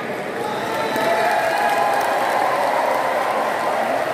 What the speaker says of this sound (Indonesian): Coba yang belakang juga tepuk tangan.